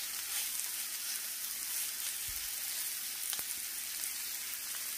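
Blackened chicken frying in a pan gives a steady, close sizzle and crackle throughout, with a few soft knocks and no voices.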